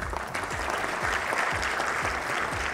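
Audience applause at a Medical Day celebration at Ankara medical faculty, welcoming a professor to the podium; a steady, fairly close wash of clapping that runs the full length.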